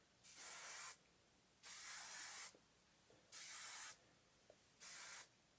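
Four short bursts of heat protectant hair spray hiss from a pump bottle, each about a second long, evenly spaced with quiet gaps between, close and clear.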